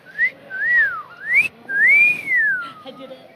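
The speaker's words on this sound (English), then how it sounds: "I can't whistle on camera." A person whistles a melodic tune in several rising and falling phrases, with a brief knock partway through, close and clear against a quiet room backdrop during a music interview session.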